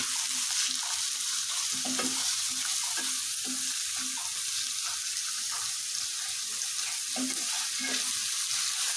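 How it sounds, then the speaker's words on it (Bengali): Medium-sized potatoes sizzle and fry in a pan with steady crackling, accompanied by repeated scraping and stirring strokes close by. "এখন আমি আলু দিয়ে দিব।"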